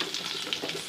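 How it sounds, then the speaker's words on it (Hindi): Chillies frying in a pan, lightly browning in oil before garlic goes in: a soft, steady sizzle with faint crackles and pops, quiet and close, with no voice. "मिर्चें फ्राई हो रही हैं"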